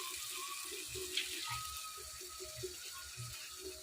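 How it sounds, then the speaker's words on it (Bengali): Spiced mustard-paste water poured into a hilsa fish curry in a village kitchen, a soft, continuous trickle and splash with low clinks and knocks mixed in, quiet and close. "জল দিয়ে দিলাম।"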